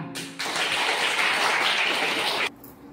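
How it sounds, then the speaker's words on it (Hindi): A burst of audience applause erupts abruptly, holds as a loud, dense roar of clapping hands for about two seconds, then cuts off sharply into quiet room tone. "तालियां"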